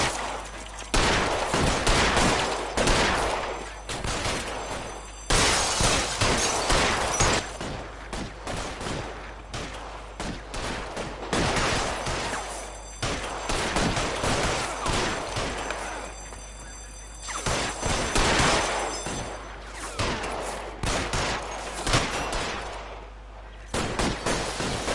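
Sustained gunfire in an L.A. Noire shootout: dense bursts of rapid shots and loud cracks, some close and heavy, others scattered, running almost without a break through the whole stretch.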